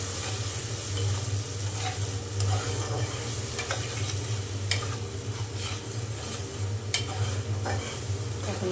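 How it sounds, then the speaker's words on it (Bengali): Spice masala stir-fried in oil with onions in a pan: a steady close sizzle with intermittent scraping strokes and a few light utensil ticks, no talking. "মশলা খুব ভালো করে আমি তেলের সাথে কষিয়ে নেব"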